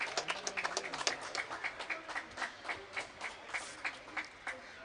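A crowd of spectators at a cricket match claps and cheers in a steady rhythmic beat, sounding moderately distant and fairly faint, with no voices standing out.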